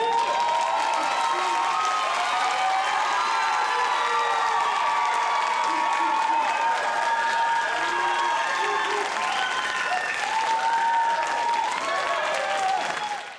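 Audience at a nursing candle-lighting ceremony applauding, a long dense wash of clapping with scattered cheers and whoops throughout, gradually fading at the end.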